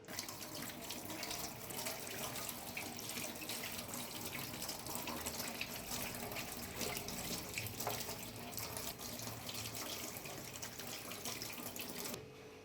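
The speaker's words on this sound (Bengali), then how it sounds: "সেজন্য সেগুলো নিয়ে ধুয়ে নিলাম।" Tap water runs steadily over ripe tomatoes, spring onions and coriander being rinsed at a kitchen sink, a constant faint hiss and splash that stops abruptly at the end.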